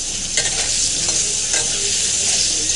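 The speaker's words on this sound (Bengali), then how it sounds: "এই যে এখানে পটল ভাজা হচ্ছে" Pointed gourd (potol) slices fry and get stirred in a pan, a continuous loud sizzle broken by brief scraping strokes of the spatula.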